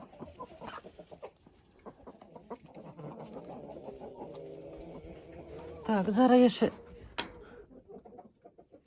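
Roosters and hens in a poultry yard, with repeated clucks and a short loud rooster call near the end, fairly close, mixed with someone speaking and faint shuffling of grain.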